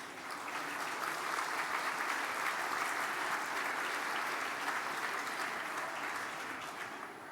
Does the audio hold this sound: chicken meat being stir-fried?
no